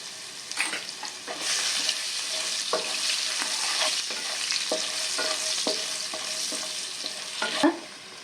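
Potatoes seasoned with salt and turmeric fry in hot oil, a continuous close sizzle with scattered stirring scrapes and clicks and a louder clatter near the end, no talking.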